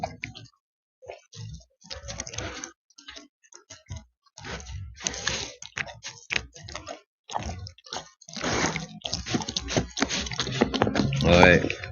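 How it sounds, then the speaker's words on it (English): A pet animal chews salmon at an anniversary dinner, giving wet, squishy chewing and smacking in irregular bursts, close up and fairly loud, with a person talking over it. "Listen to him chewing that."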